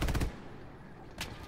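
A quick burst of machine-gun fire in Hell Let Loose, a rapid string of shots near the start, followed by one more single shot after a short pause.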